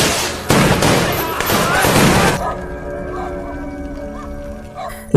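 A gangster film shootout opens with loud, dense bursts of gunfire and booming blasts for about two seconds. The firing then cuts off abruptly into a quieter, tonal ringing stretch, and a final sharp shot closes the moment.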